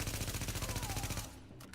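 Rapid automatic gunfire from the Hilder and Eir guns in The Division video game, a steady fast rattle of shots for just over a second before cutting off, alone without talk.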